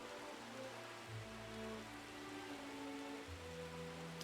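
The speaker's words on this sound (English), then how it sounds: "but it might be because it's raining" Rain in the video game Uncharted Waters Online falls as a soft, steady hiss under low sustained musical tones, faint and continuous throughout.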